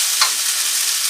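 Chicken sizzling and frying in a pan for chow mein, a steady soft hiss with one brief stir or clink near the start, close and continuous with no talk.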